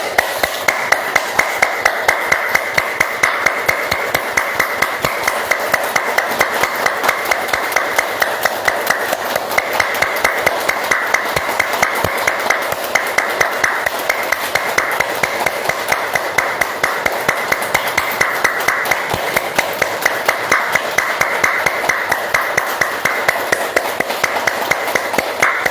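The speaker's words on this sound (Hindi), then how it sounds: "आइए सभी ताली वादन करेंगे।" A group practicing yoga for Parkinson's claps hands in a steady, fast rhythm, sharp even claps repeating continuously for about half a minute, close and loud.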